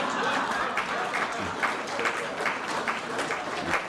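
An audience at a Pride Week event breaks into steady applause, a sustained wash of many hands clapping with a few voices mixed in.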